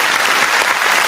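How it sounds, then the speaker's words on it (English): A brief burst of dense, steady clapping from a group of people, loud and continuous with no voices. "I definitely have to give you all a round of applause"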